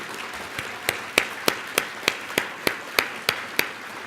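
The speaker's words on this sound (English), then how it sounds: "let's all applaud them" Slow, evenly spaced claps from an audience at a city league awards conference, honoring league staff, about one clap every third of a second, fairly close and crisp with no talking over them.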